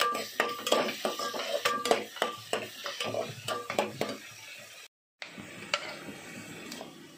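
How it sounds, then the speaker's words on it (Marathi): Capsicum being stirred into pav bhaji in a pan, a spoon scraping and clinking against metal in a steady series of near, sharp strokes over a faint sizzle, with a short silent gap near the end. "आता त्यामध्ये आपण शिमला मिरची टाकायची, ते पण हलवून घ्यायचं। सर्व एकत्र करून मिक्स करत राहायचं।"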